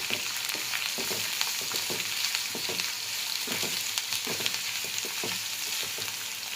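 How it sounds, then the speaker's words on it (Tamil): Sliced onions and green chillies sautéing in oil for empty salna: a continuous close sizzle punctuated by regular scraping and tapping strokes of a spatula stirring through the pan, with no talk. "வெங்காயம் வந்து நல்லா வதங்கணும்."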